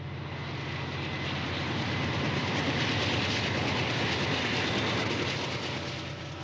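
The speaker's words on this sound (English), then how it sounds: "Back to the Loop, and we find a leading GP35 with a fresh coat of paint." A Santa Fe GP35 diesel locomotive, freshly painted and in the lead, rumbles past in a loud, steady roar of engine and wheels that swells slightly and stays continuous throughout, with no voices.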